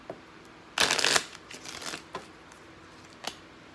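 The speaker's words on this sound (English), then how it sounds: "One more shuffle." Oracle cards are shuffled in one quick, crisp riffling burst, followed by a few softer card slides and taps in a quiet room.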